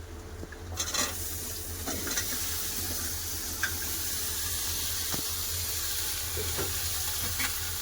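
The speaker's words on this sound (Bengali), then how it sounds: "পেঁয়াজ ভালো করে লাল করে ভেজে নিয়েছি এবার ধুয়ে রাখা সবজি দিয়ে দেবো কুমড়ো আলু পুইডাটা" Pumpkin, potato and Malabar spinach greens frying with browned onions in a pan, a steady close sizzle with occasional stirring scrapes and clinks, no voices.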